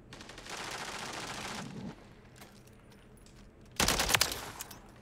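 Holger rifle gunfire in the shooter game Modern Warfare 3 ranked play: a sustained stretch of rapid automatic fire, then a quieter pause and a sharp, louder burst of closer shots near the end.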